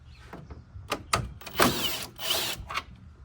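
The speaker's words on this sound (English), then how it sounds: "I've got an impact gun. Should make this really easy." Impact gun spinning off front bumper bolts on a 2019-2025 Honda Passport, several short bursts of whirring close by with brief pauses between them, no talking.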